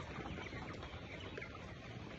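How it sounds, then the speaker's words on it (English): Chickens cluck at feeding time, a dense, steady flock noise, loud and close with no clear gaps. "as you can see, feeding time for our birds."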